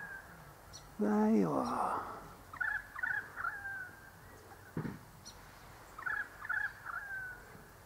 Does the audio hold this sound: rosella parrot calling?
yes